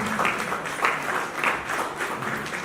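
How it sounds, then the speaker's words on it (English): An audience at a reality-show prize ceremony keeps clapping as a winner returns to her seat, soft and somewhat distant, with a loose, pulsing rhythm. "Please let the clapping continue until she takes her seat, please."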